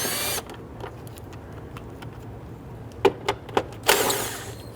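10mm bolts on the power steering pump of a 2008-2013 Infiniti G37 being loosened with a wrench: a few sharp metallic clicks close by, then a short ratcheting burst, with no talk.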